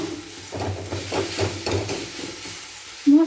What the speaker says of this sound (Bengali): মশলা ভালোভাবে কষে নিচ্ছি